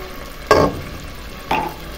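Arroz con pollo with chili sauce being stirred in a hot pan, heard as two short, close scraping sweeps about a second apart against a quiet background.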